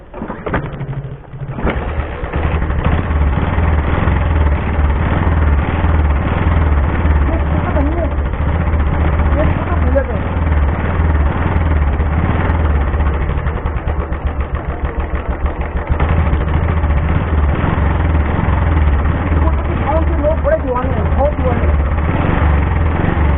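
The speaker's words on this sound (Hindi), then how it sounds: "आप सोचेंगे कि ये स्कूटर है या कुछ और। करते हैं स्टार्ट।" A scooter engine starts with a short crank, then idles steadily and loudly at close range in a constant low rumble, with faint birds behind, above Dhalli Tunnel in Shimla.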